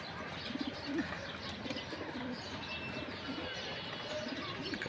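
Silver Bagha pigeons in a loft, soft repeated cooing under faint chirps against a low, steady background, heard close and quiet.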